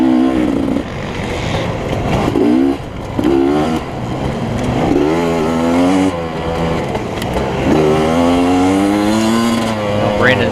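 A dirt motorcycle runs across a short grass track after coming out of the woods, its engine loud and close, revving and shifting up and down in pitch throughout with steady wind noise.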